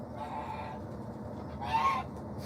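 Backyard chickens cluck softly at feeding time alongside other poultry such as ducks, turkeys and geese, a faint busy murmur with one brief louder squawk.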